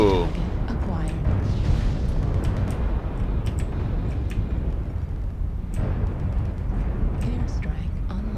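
Heavy booming blasts from incoming missiles in MechWarrior Online hit around a Javelin mech, deep rumbling impacts rolling one into the next with sharp cracks scattered on top, loud and continuous.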